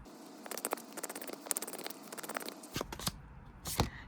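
Tarot cards are shuffled with a quick, crisp riffling patter, followed by a few louder slaps and taps as the deck is handled, close and fairly quiet.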